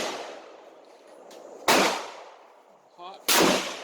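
A 1909 Mauser rifle fires two loud, sharp shots about a second and a half apart, each with a booming echoing tail outdoors, and a brief metallic bolt or clank sound between them.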